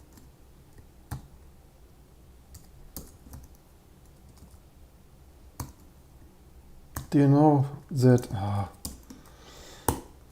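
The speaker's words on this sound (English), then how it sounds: "I'm not typing on a pro keyboard." Typing on an Apple computer keyboard with a German ISO layout, scattered soft key clicks at first, then a louder burst of rapid keystrokes near the end, with someone speaking briefly over it.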